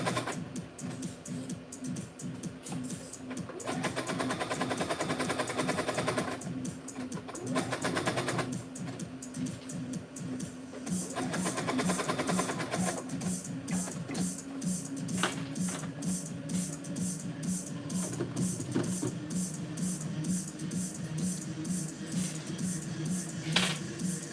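A home sewing machine stitches a Simplicity 9835 costume in rapid, steady bursts with pauses between runs, close but fairly quiet, with faint background sound.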